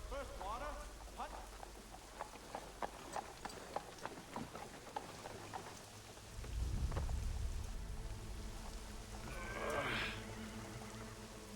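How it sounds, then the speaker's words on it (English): Rain falls steadily over a Boston street in the video game Assassin's Creed III, with horse hooves clip-clopping and a low rumble of thunder partway through, all faint and ambient. "It's wet. This is Convoy that should be famous here soon. Boston rain."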